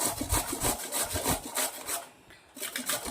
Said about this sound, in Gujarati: આપણે આવી રીતના છિલકા સુધી જ લેવાની છે અને આવી રીતે છીણી નાખશું